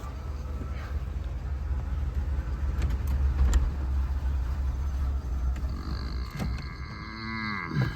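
A 1978 Buick Electra engine idling on a hot day, then stumbling and dying out as it is put in gear, with a brief sputter near the end; steady low rumble throughout, no talk.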